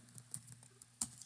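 Keystrokes on a computer keyboard while writing Python code, a quiet sparse run of soft taps with one sharper, louder clack near the end, no voices.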